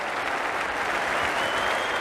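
A stadium crowd at a 1991-92 Australia versus India Test cricket match applauds a batsman reaching his fifty, with dense, steady clapping throughout.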